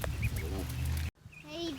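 Ducklings, including one with splayed legs during water therapy, quack and peep in short, high calls close by, with a person talking over them.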